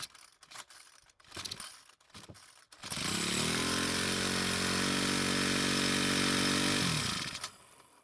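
A four-cycle string trimmer with a cold-start problem catches after a few pulls and pops, then revs up loudly and runs steadily for about four seconds before dropping off, close and alone.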